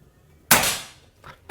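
One loud, close PCP air rifle shot snaps and decays quickly, followed by a couple of faint metallic clicks.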